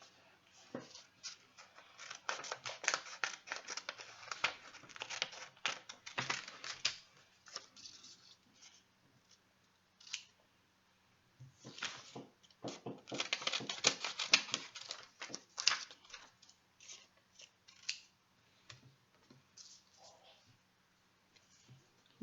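Scissors cutting in two long stretches of rapid, dense clicking snips, close and moderately loud, with a quiet pause between them and faint background voices.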